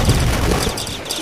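A burst of gunfire in the video game Deeeer Simulator, loud and dense, rumbling continuously for just over a second with no voices over it.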